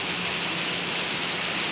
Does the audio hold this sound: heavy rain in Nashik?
yes